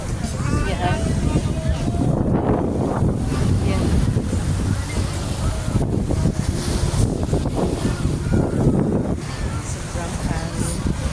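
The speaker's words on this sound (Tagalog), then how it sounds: "Sobrang hangin." Strong wind at Lobo Beach buffets the microphone in a constant roar, with surf and someone talking over it throughout.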